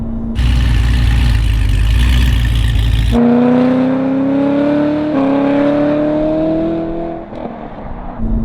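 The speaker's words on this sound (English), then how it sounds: "that tone comes from a Cook's exhaust, headers all the way back" A loud Cadillac CTS-V Wagon engine, 670 wheel horsepower, with Cook's headers into an X-pipe exhaust, rumbles steadily, then revs up with a rising exhaust note held over several seconds, close and continuous, easing off near the end.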